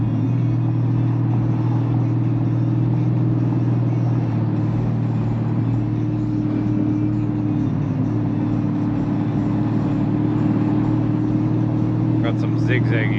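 A turbocharged Dodge Challenger SRT8 cruises through a road construction zone, its engine holding a steady, deep drone heard from inside the car for over ten seconds.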